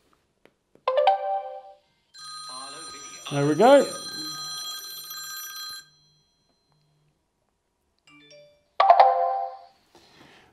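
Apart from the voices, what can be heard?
mobile phone ringing from an Arlo video doorbell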